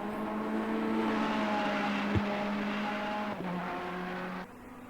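A Ferrari 488 race car drives on track, its engine a steady close tonal drone with shifting pitch and a short bump midway, cutting off sharply near the end.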